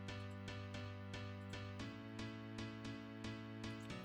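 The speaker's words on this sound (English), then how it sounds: "Then the next piano is this." A piano layer from a Kontakt library for a remake plays quiet, evenly spaced chord strikes in a steady rhythm, soft and sustained, with a chord change halfway through.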